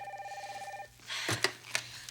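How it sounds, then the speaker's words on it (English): A telephone rings with a steady pulsing electronic trill, then the ring breaks off and a few clicks and handling noises follow, as if the receiver is being picked up indoors. "Amber, what are you doing answering Ridge's phone?"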